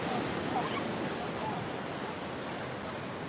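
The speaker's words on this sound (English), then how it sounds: "these waves" Ocean waves washing onto Carmel Beach in California on a Thanksgiving afternoon, a steady broad roar of surf filling the whole stretch without pause.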